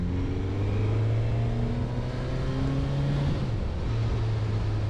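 A 2022 Suzuki GSX-S1000GT litre sport-touring motorcycle pulls hard out of a corner, its engine note rising steadily, then briefly dropping at a gear change before climbing again, loud and continuous under rushing wind.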